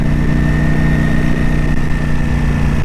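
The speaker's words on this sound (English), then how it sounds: "I'm keeping it low revs because I have to run the bike in." A Ducati motorcycle engine being run in at low revs, a loud steady droning rumble held at a constant pitch throughout, close up with no speech.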